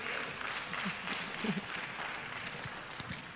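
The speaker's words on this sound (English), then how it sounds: "Let's give a round of applause for them." An audience at a church health ministries event claps in a round of applause, a steady wash of many hands with a few sharper claps and murmuring voices underneath.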